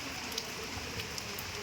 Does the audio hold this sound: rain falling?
yes